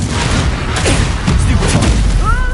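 A Confringo blasting spell explodes in Hogwarts Legacy, a dense, loud booming burst sustained through the moment with crackling debris and a thin magical whine near the end.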